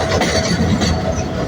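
A container freight train rolls past in Bangladesh, a close, loud, steady rumble of wagons with a faint clickety-clack of wheels over rail joints throughout.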